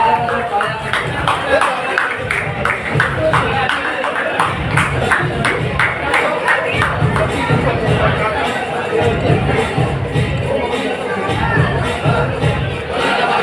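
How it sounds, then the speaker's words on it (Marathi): A crowd at a community Satyanarayan puja and annual gathering in Mumbai claps in loud, rhythmic bursts that pulse steadily throughout, dense and close. "जोरदार टाळ्या, टाळ्या, टाळ्या, टाळ्या"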